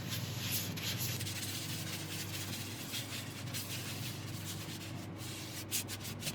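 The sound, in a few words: rubbing abrasive paste into turned wood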